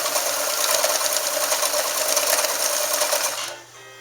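A Morse straight stitch sewing machine runs at a brisk, even pace, its rapid needle clatter close and steady before it slows and stops near the end, leaving a faint residual hum.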